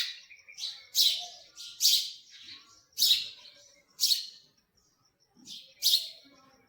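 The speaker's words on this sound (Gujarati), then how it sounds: "ચકલી બેન જો હિસકા ખાવા માટે પોગી ગયા છે." A sparrow that has come to feed gives about seven sharp, high chirps in quick bursts, spaced roughly a second apart, close and clear against near silence.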